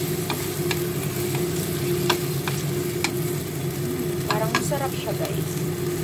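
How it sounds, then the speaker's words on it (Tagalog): Thai green curry being stirred in a pan, with a steady low sizzle and a few scraping clicks of the utensil against the pan throughout, and no talk. "So, haluin natin."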